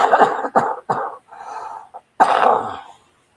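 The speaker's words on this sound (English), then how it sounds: "Hang on, I got a cough." A run of close, loud coughs and throat clearing, a few quick hacks followed by a longer rasping cough, then silence.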